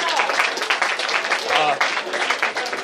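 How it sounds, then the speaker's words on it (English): Concert crowd at the Evelyn Hotel in Melbourne applauding, a dense, steady wash of clapping heard close, with a performer's voice speaking over it. "Just also a round of applause."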